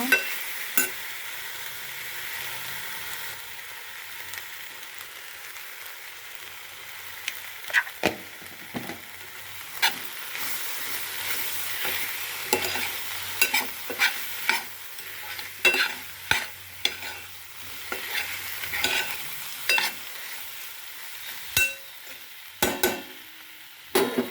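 Broad bean and tomato curry is stirred in a pan over a low sizzle, with repeated close spoon scrapes and knocks against the metal that come in quick bursts, getting busier toward the end; no talking.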